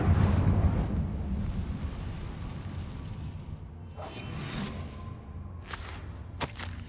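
A fire spell cast in the Hogwarts Legacy video game, heard as a loud rushing whoosh and roar that fades over several seconds, followed by a few sharp whip-like snaps near the end.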